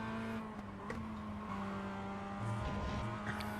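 A Mazda MX-5 race car in the iRacing simulator drones at steady high revs, with shifting engine tones and faint tire noise from nearby cars, continuous and quiet with no voices.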